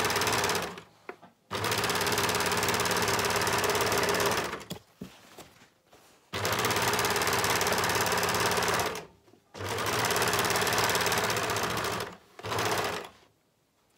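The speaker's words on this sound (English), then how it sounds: "I've overlocked both of the side lengths, that's the longer lengths" An overlocker sewing machine stitches the long side seams of fabric for scrub bags, running in loud rapid whirring bursts of a few seconds each, separated by brief pauses.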